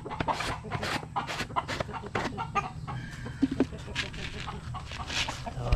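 Fighting roosters (gamecocks) cluck busily at feeding time in a rural Philippine yard, a dense run of repeated clucks and squawks close by, with faint voices in the background.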